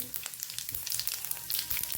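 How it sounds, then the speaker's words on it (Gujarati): Half a spoon each of mustard seeds and cumin crackle and sizzle in hot oil, with a dense, steady spatter of pops close by and no voices. "અહીં આપણું તેલ પણ સરસ ગરમ થઈ ગયું છે તો આપણે અડધી ચમચી જેટલી રાઈ ઉમેરશું અડધી ચમચી જેટલું જીરું ઉમેરશું"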